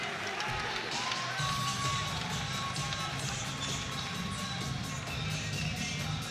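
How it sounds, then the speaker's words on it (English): Boxing arena crowd at the Liam Smith versus Liam Williams rematch, a steady low roar of murmuring spectators filling the hall, fairly subdued with no sharp cheering peaks, continuous and distant-sounding throughout. "Slightly muted response from the crowd."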